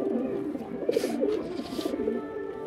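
Domestic pigeons kept by a hobbyist in Bangladesh coo softly and repeatedly nearby, low throaty calls rolling over a quiet background with a brief rustle of wings.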